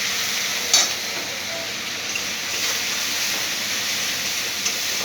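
Taro stems (kochur loti) cook down with spices, a little sugar and a splash of water for a bhetki fish chochhori, making a dense, steady sizzle with occasional stirring scrapes.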